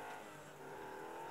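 A car's engine roars and revs steadily in a drifting video game, the sound loud and continuous from start to finish with no pause.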